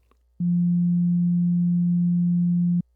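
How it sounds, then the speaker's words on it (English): Steady sine wave tone from an Ableton Live Analog synthesizer, a single clean pure pitch holding for about two and a half seconds, loud and alone, starting and stopping abruptly. "we have a tone here, and it's plotting this sine wave over time"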